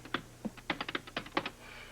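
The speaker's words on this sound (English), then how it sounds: "I do know my way around that keyboard, Robbie." Quick, uneven clatter of keys on a computer keyboard, close and fairly quiet, a burst of about a dozen keystrokes in a quiet room.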